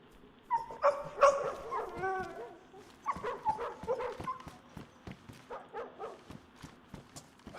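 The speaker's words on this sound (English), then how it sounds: "they just keep barking" Dogs in the survival video game DayZ bark and yelp repeatedly in bursts at moderate distance, with a soft rhythmic footstep-like ticking underneath.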